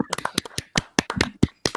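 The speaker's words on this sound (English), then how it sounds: "Let's clap it up." Scattered hand claps from a small audience at a storm-chasing community address, about a dozen sharp separate claps in an uneven rhythm with brief gaps, close and fairly loud.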